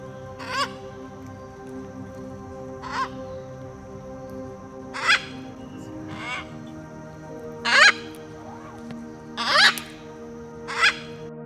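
Macaws giving harsh, raspy squawks, about seven separate calls spaced irregularly, some louder and closer than others, over a low steady background hum.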